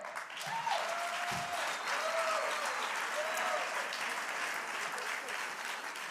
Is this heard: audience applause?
yes